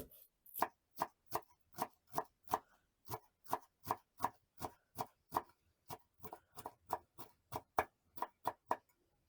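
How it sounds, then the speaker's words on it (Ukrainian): Green onion and dill being finely chopped with a knife on a board, a steady rapid series of about two dozen crisp, even knocks, close and unaccompanied by talk. "Я взяла зелену цибульку та кріп. Мілко нарізати."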